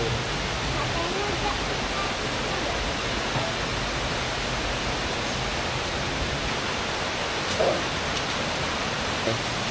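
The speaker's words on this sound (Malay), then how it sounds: "Tengoklah sungai di depan bilik kami." A river rushing in front of a chalet at a Jerawok camping site, a loud, steady, close wash of flowing water that fills the whole stretch without a break.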